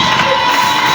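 Crowd at a church gathering in Ouagadougou cheering loudly in acclamation of Jesus, a dense continuous roar of voices filling the space.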